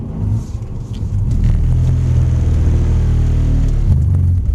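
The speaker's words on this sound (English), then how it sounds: "Notice more wheel spin when we're pulling away as well" A car pulls away hard on a slippery surface with its wheels spinning, the engine a loud, close, sustained rumble that holds steady for several seconds before easing slightly at the end.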